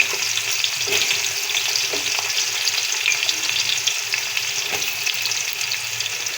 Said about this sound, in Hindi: गर्म हो चुका, इसके अंदर प्याज जाएंगे। प्याज को ब्राउन करेंगे।